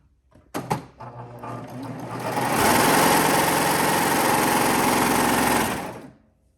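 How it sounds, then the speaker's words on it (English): A serger overlocks fabric, serging off the end of a seam: a few clicks, then a loud, steady high-speed whirring run lasting about four seconds that winds down and stops. No voices. "move my fabric all the way to the back so that I can serge off"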